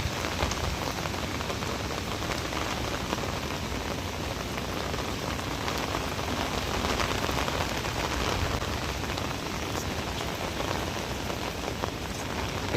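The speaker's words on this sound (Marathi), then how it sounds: "पावसाने इतका जोर वाढवला आहे की सर्व पाणी पूर्णच्या पूर्ण तुडुंब झालं" Heavy monsoon rain pours steadily in a Konkan village during flooding, a dense, continuous hiss of drops drumming on surfaces at a constant loud level with no voices throughout.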